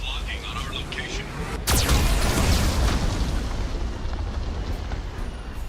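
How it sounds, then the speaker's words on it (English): A Geth cannon fires in the Mass Effect video game, a sudden heavy boom that rolls into a long, loud rumble over constant battle noise. "Warning, Geth cannon is locking on our location."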